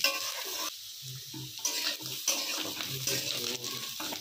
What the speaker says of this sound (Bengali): সবজিগুলো কড়ার মধ্যে দিয়ে দিয়েছি।